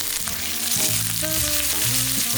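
Mushrooms with sliced garlic and thyme sizzling loudly in browned butter in a pan, a dense, continuous hiss with faint clinks, close up and without voices.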